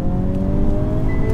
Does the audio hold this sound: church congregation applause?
no